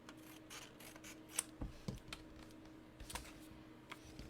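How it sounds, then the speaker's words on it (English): Scissors snip through paper to cut out strips, giving a handful of quiet, sharp crisp cuts spaced irregularly against a soft, low room hum. "Next step will be to cut out those strips."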